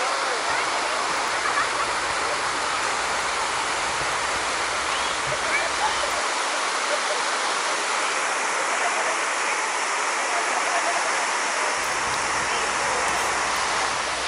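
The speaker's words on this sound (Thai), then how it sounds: "สำหรับแก่งนะครับจริงๆตลอดลำน้ำก็จะมีหลายแก่งนะครับ" River rapids at Nan Mot Daeng in Phatthalung, Thailand, make a loud, continuous broadband roar of rushing, churning water that stays steady and close the whole time.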